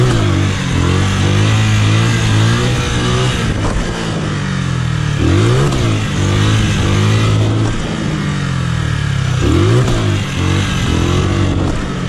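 A motorcycle engine revs loud and close during wheelie practice, holding a steady throaty idle broken by two sharp rising blips of throttle, with no voices.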